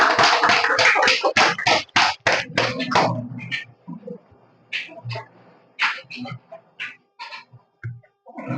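A small crowd claps for a prize draw winner awarded a spray pump, with a brisk burst of hand claps for a few seconds that thins into scattered claps as a voice speaks.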